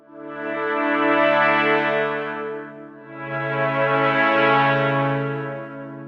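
A close-miked brass swell sample with no reverb, two sustained chords each swelling up and fading back, dry and full with no voices.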